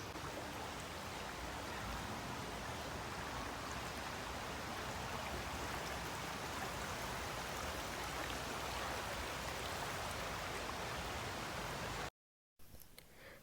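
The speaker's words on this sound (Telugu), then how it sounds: "వాటర్ ఫ్లో సౌండ్ వినిపిస్తాను, ఎంత బాగా వస్తున్నాయో" River water flowing past a riverside park makes a steady, dense rushing hiss with no let-up, heard alone until a brief dropout near the end.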